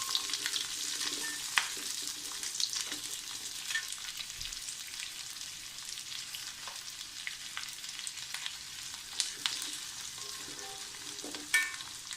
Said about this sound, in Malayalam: അത് ആ വെളിച്ചെണ്ണയിൽ ഇട്ട് കൊടുത്തിട്ടുണ്ട്.